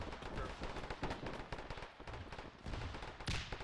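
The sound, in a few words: gunfire in the video game Arma 3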